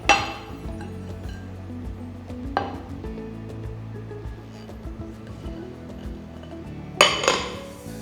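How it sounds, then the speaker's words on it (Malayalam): Sweet soft kesari in a pan is flipped upside down onto a plate, giving a clink of metal and plate at the start, a brief knock midway, and a louder clatter of pan on plate near the end. "ഇനി ഒരു പ്ലേറ്റിലേക്ക് കമത്തിയിടാം."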